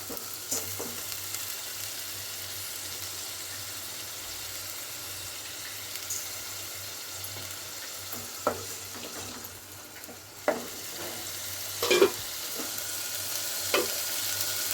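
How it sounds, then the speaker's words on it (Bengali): Ground onion paste sizzles steadily in hot mustard oil while being stirred, with a constant frying hiss and occasional scraping clicks of the spoon, close and moderately loud with no talking. "তো বেটে রাখা পেঁয়াজটা তেলের মধ্যে দিয়ে হালকা নেড়ে চেড়ে নিচ্ছি।"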